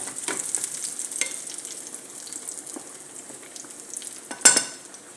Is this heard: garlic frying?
yes